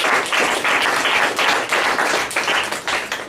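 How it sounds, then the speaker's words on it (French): An audience at an evening meeting breaks into steady applause, many hands clapping together in a dense, even patter that carries on loudly and alone for a few seconds. "je pense que ça va une bonne main d'applaudissements pour tout le monde"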